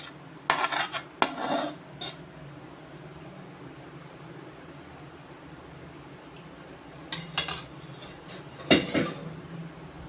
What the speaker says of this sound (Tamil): நம்ம இந்த மாதிரி இரும்பு சலடையில் ஊற்றிட்டோம்னா தண்ணி வடிஞ்ச மாதிரி எண்ணெய் வடிஞ்சிடும்.